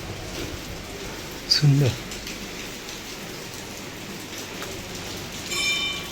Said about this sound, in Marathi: पाऊस आता खूप जास्त आहे